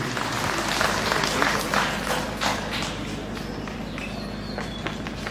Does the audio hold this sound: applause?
yes